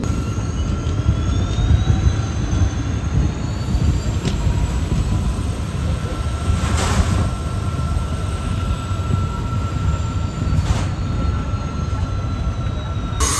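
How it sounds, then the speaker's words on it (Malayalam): An SMBT Bengaluru–Murudeshwar Express made up of LHB coaches passes near Mangaluru Junction, with a continuous loud rolling rumble, a high tonal whine and a few sharp clanks as it goes by. "ഈയിടെ LHB ആയ നമ്മുടെ SMBT ബംഗളൂരു മുരുടേശ്വർ എക്സ്പ്രസ് ആണ് ഈ പോകുന്നത് കേട്ടോ"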